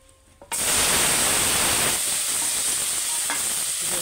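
Onion and tomato hit hot oil in a wok after fish frying, bursting into a loud, dense sizzle after half a second of quiet that stays steady to the end, with no one speaking.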